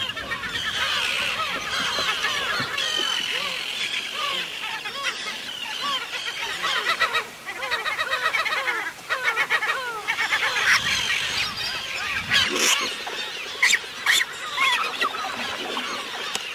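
Dense chorus of birds calling at a lake nesting colony of gulls and terns, with grebes and cormorants also nesting there; loud, continuous overlapping honking and shrill cries, near and far, with no talk.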